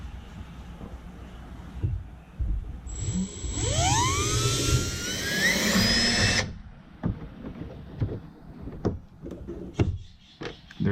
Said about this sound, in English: Let's go ahead and drill this out